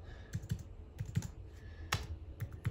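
Someone types an address on a computer keyboard. Close, crisp key clicks come in quick short bursts separated by brief pauses, with no talking.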